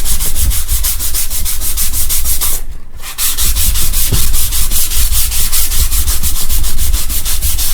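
Rapid back-and-forth scuffing of a sanding pad over a hot melt adhesive wood repair fill, loud and rhythmic, with one brief pause partway through.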